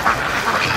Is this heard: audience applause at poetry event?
no